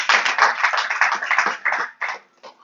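A group claps hands at a satsang gathering in a home, loud dense applause close by that thins out and breaks into a few scattered claps near the end.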